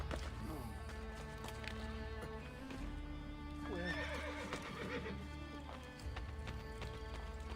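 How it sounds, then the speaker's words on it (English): Horse neighing with clip-clopping hooves in the Assassin's Creed Brotherhood video game, loud and continuous over a busy game soundtrack, with a whinny rising near the middle. "jumping on a horse from that height does nothing to the horse"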